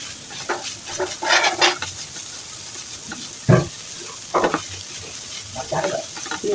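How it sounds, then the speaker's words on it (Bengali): Boiled helencha greens fry with garlic and onion, giving a steady close sizzle broken by repeated scraping and stirring strokes in the pan, with no talking. "সিদ্ধ করা শাকটা আমি এখন দিয়ে দেব তো রসুন পেঁয়াজের সাথে ভালোভাবে নেড়ে চেড়ে আমি আরও কিছুক্ষণ ভেজে নেব শাকটা"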